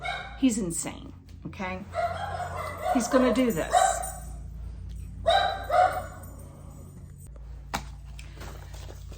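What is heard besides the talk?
dog barking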